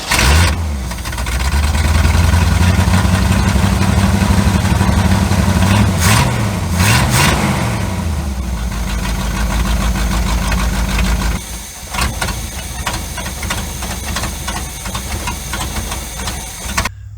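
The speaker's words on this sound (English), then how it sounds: "let's fire it up, see if it'll run. If it'll sit there and run idle," A 1972 Chevrolet C30 truck engine cranks and fires, revs up briefly and then settles into a steady, loud idle nearby, dipping for a moment before carrying on rough and unaccompanied by speech.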